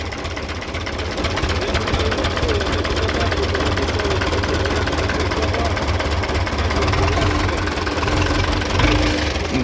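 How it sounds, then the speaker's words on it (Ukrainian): An MTZ-82 tractor's diesel engine runs steadily at idle with a low continuous rumble and knock, while people talk nearby over it. "Ну а так мотор доволі гарненько робить"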